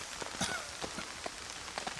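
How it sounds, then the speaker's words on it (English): Heavy rain pours down in a swamp, a constant wash with scattered sharper drips and taps close by, and no one talking. "It's proper bucketing down."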